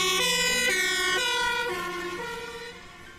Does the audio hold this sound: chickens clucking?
no